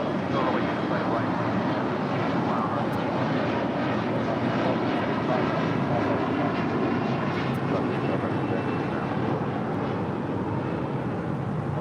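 A Qantas airliner arriving at LAX from Sydney, a steady broadband engine roar holding constant and loud throughout, with faint voices mixed beneath it.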